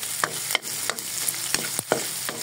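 Oil sizzling in a pan while adobo na kuhol (snails) cooks, a steady frying hiss broken by repeated scraping stirs, close and loud with no voices.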